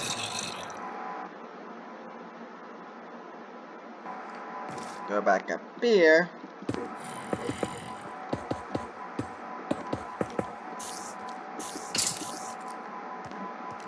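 In a Minecraft-style sky map, water is poured from buckets in a few short splashy gurgles amid scattered clicks and game noises, with a voice talking quietly over part of it.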